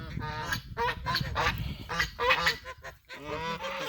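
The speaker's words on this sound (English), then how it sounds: "I don't want the ducks and the geese to be eating them" Ducks and geese on a farm honk and quack in a loud, overlapping flock chorus of repeated calls, close by and continuous with only brief gaps.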